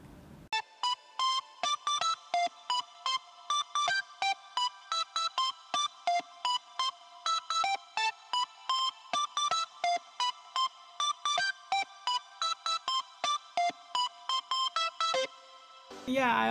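Counter melody for an EDM track, a bright plucked synth line of rapid repeated notes in a steady, bouncing rhythm, playing continuously for about fifteen seconds before cutting to another sound at the end.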